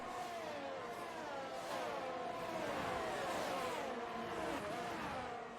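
Race cars in a British Grand Prix round of a racing video game scream past with sustained, overlapping high engine notes that rise and fall as they accelerate and shift, loud and continuous throughout.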